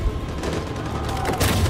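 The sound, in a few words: gunfire in video game Detroit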